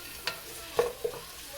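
Onions sauté in a pan for chicken biryani, with a quiet sizzle and three light stirring scrapes of a spoon against the pan, close but soft.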